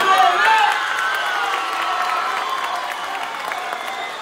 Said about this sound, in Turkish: şimdi sizlerden kocaman alkışlar istiyorum